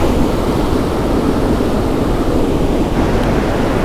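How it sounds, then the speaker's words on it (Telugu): Loud, continuous roar of rushing Godavari floodwater near a bridge in Konaseema, broad and steady like a powerful flood current, close by with no voices. "ప్రవాహం వరద ప్రవాహం మరీ దగ్గరలో ఉంది"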